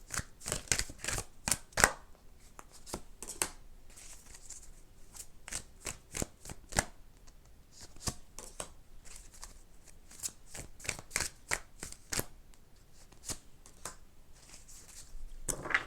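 Tarot cards being shuffled during a reading, a steady run of crisp riffling slaps and papery flicks that stays close and fairly loud throughout, with no talking.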